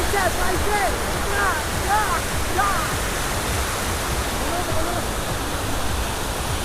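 Steady roar of a waterfall at Nandi Hills near Bengaluru fills the whole stretch, broad and continuous, with birds chirping faintly over it.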